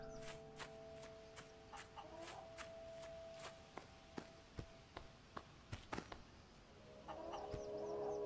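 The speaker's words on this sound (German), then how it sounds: "Wie kann ich die Hühner zusammentreiben?" Chickens in the Fable 2 video game cluck in scattered bursts over quiet ambience, mixed with a series of sharp clicks and taps, and a louder chorus of clucking rises near the end.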